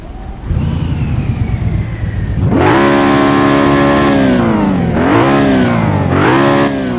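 BMW car exhaust in the BeamNG.drive driving game, idling quietly before surging into loud, sustained revs that rise, dip twice and climb again, with no talk over it.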